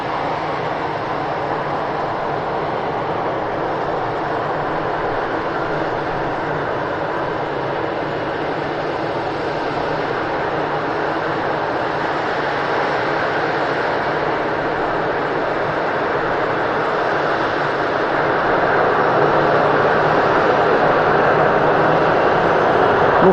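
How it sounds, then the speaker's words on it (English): Airbus A380 taking off at Manchester Airport, a continuous loud, broadband jet roar that holds steady and swells slightly louder toward the end. "phenomenal takeoff there from the 380"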